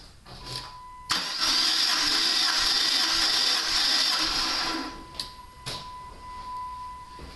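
A Chrysler PT Cruiser 2.4 engine cranks over on the starter for a compression test, a steady whirring burst of about four seconds, close and loud, followed by a couple of short clicks and then quiet.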